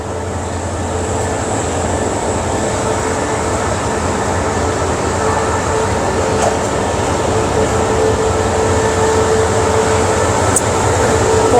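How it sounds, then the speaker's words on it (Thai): A train led by a new-model locomotive and trailed by a power car passes close by in a loud, sustained rumble and rattle that slowly builds, with a faint tonal hum over it. "หัวรถจักรรุ่นใหม่ค่ะแล้วก็ตามด้วยตู้สำรองไฟ"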